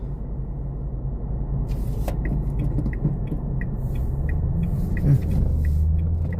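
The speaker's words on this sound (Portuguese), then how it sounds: "Agora tá vindo um bocado de carro lá." Several cars approach along a city street at night in Aracaju, heard from inside a waiting ride-hail car as a rising low rumble of passing traffic, with a regular ticking indicator clicking over the engine hum.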